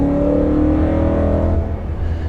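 BMW E92 M3 fitted with an Akrapovic Evolution titanium exhaust, revving loudly and steadily close by with a thin, metallic edge to its tone, alone without talk.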